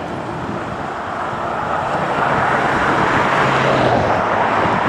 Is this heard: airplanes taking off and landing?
yes